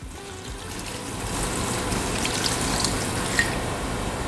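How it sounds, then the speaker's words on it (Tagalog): Rice wash water from the third rinse pours steadily into a cooking pot for gotong Batangas, a continuous splashing trickle that swells slightly and runs alone without talk. "Magdadagdag lang ako ng konting tubig kasi kulang."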